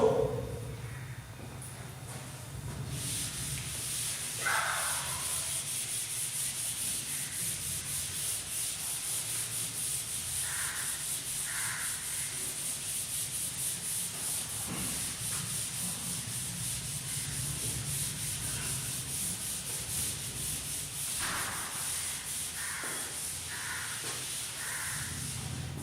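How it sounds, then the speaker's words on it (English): A classroom board being wiped clean with an eraser, a long steady scrubbing hiss with scattered squeaky rubbing strokes, continuous and close for nearly half a minute. "Now, let me rub the board."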